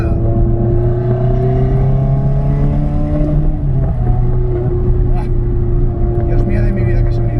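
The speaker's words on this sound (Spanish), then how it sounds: "No había oído todavía el escape en el túnel." Ferrari exhaust roaring inside a tunnel, a loud continuous low engine drone with echoing reverberation, while someone talks over it.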